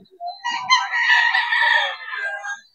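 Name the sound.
gamefowl roosters (stags) crowing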